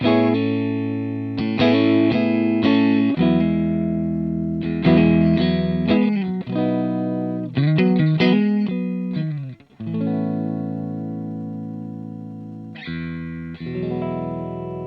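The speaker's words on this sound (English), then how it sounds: "this is a clean tone taken from my Amplified Nation Overdrive Reverb" Clean electric guitar through an Amplified Nation Overdrive Reverb amp tone, chords and single notes ringing out with sustain, playing alone with brief pauses between phrases.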